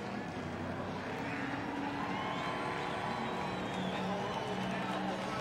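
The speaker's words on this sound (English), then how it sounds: "Crowd's loving it too." A steady, broad wash of crowd noise from the grandstands at a NASCAR Busch Series race at Chicagoland after a winner's celebratory donuts, loud and continuous throughout, with a faint engine-like hum underneath.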